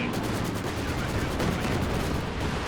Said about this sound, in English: Katyusha barrage coming in on the Obers